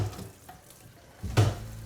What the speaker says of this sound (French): je vais faire couler de l'eau froide dans l'autre évier pour nettoyer les frites